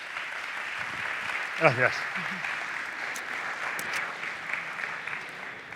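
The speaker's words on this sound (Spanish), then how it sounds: "Un fuerte aplauso para él." An audience applauds Guillermo at an entrepreneurs' event, with moderate steady clapping throughout while a voice briefly speaks over it partway through.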